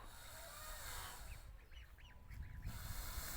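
Several geese honk in short bursts over a steady outdoor hiss, the calls moderately distant and clustered in the middle of the stretch.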